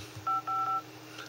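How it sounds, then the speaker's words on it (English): Keypad tones from the phone dialer on a Sprint HTC Hero smartphone: two short, clean dual-tone beeps in quick succession, the second slightly longer, over a quiet background hum. "That's the phone dialer."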